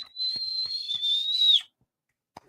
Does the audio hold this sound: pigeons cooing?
no